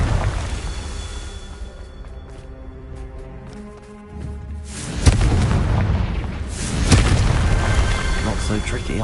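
A Confringo fire spell blasting in Hogwarts Legacy: loud booming explosive bursts near the middle and end of the clip, rumbling heavily over game sound and a speaking voice.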